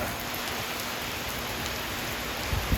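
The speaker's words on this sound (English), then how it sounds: "Ooh, the rain has really moved in." Heavy rain pours outdoors in a steady, dense hiss that stays even and unbroken throughout, with no voices over it.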